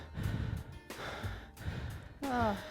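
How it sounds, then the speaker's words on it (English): Heavy, gasping breaths from a person winding down after a shoulders and cardio workout, in repeated breathy bursts that are close and fairly loud, with a brief voiced sound near the end. "You're probably still breathing quite hard like I am."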